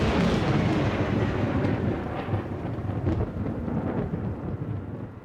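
Thunderstorm in the southern United States, with heavy, continuous rumbling thunder and steady rain filling the whole stretch, loud and close, with no voices.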